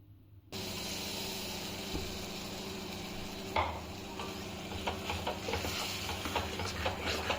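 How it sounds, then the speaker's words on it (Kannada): Potato, eggplant and beans frying with salt in a pan for Mandya-style sprouted horse gram sambar, a steady low sizzle that starts abruptly, with occasional scraping stirs and light clinks from the pan. "ಸ್ವಲ್ಪ ಉಪ್ಪು ಹಾಕ್ಬಿಟ್ಟು ಒಂದು ಸ್ವಲ್ಪ ಹೊತ್ತು ಫ್ರೈ ಮಾಡ್ಕೊಬೇಕು"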